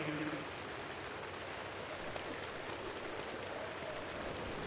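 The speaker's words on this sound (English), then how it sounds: "Even though it's raining," Steady rain falls in The Legend of Zelda: Breath of the Wild, a constant loud hiss of drops on the ground with faint soft ticks scattered through it.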